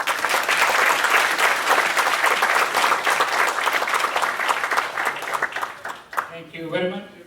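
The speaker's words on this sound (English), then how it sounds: "Give him a nice round of applause again, please." Audience applause at a Houston 2014 Sankara Eye Foundation event, dense steady clapping that fills the room and holds loud for about six seconds before thinning out as a voice begins speaking.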